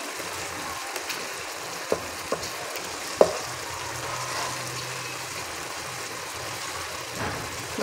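Tomatoes fry and cook down in a pan for moong dal tadka, with a steady close sizzle broken by a few sharp stirring clicks and taps, fairly loud and continuous, with no talking.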